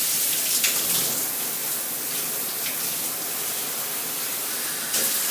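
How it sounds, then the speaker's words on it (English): A shower head designed for low water pressure sprays at full wide coverage, producing a steady, close, bright hiss of water streaming nonstop, with a slight surge near the end. "It's going all the way to the back of the shower. A full spray, full wide coverage."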